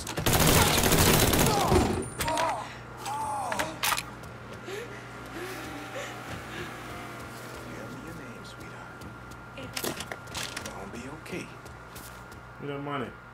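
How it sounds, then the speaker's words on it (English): Burst of gunfire in the video game Mafia 3, a loud volley opening the scene and then giving way to quieter ambient game sound with scattered sharp cracks and voices talking. "Oh, they shooting. Y'all shooting."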